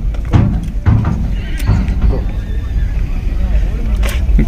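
Mare neighing at the Nagaur cattle fair in Rajasthan, a loud nearby whinny set in a busy fairground din with hoof clatter, crowd noise and voices throughout.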